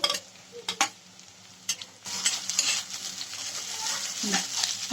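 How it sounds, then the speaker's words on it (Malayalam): Chopped green chilies added to softened onions in a hot pan, a few spoon clinks against the pan followed by a louder, steady frying sizzle as they are stirred in. "അതിലേക്ക് ഇനി കുനുവിനാന്നരിഞ്ഞ് വെച്ച പച്ചമുളക് ഇട്ട് കൊടുക്കുന്നു"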